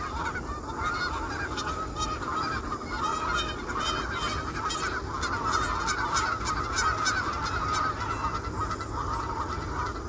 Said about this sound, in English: the entire flock of geese also practices their flight, creating a resounding, powerful flapping sound and kicking up clouds of dust